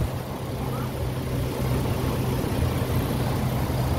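An old truck's engine running at idle after being started, a steady low rumble with a constant hum, close and moderately loud, without talk over it.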